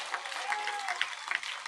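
Crowd applause at a village election rally in Rajlu, Gannaur, a dense, steady patter of many hands clapping at a moderate distance for a short burst.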